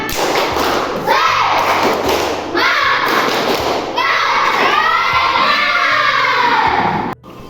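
An audience of schoolchildren claps a rhythmic Indonesian spirit-clap chant, tepuk semangat, loud and near. Repeated sharp clapping bursts come in patterned beats, with voices shouting and chanting along.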